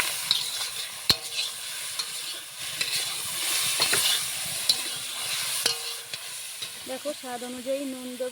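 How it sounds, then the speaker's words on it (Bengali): Scooped-out pulp of ripe pointed gourd is stirred in a frying pan, giving a close, steady sizzle with scattered spatula scrapes and knocks while someone talks briefly over it. "পটলের সেই ভেতরের শাঁসটা আমি তুলে রেখেছিলাম, তো ওটা ঢেলে দেব, দিয়ে ভালো করে নাড়িয়ে নেব।"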